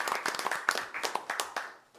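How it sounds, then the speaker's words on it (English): Applause at a city mayor and council meeting for officers just promoted to corporal, a brief burst of moderate hand clapping from a modest crowd that thins out and fades toward the end. "So let's give them a round of applause."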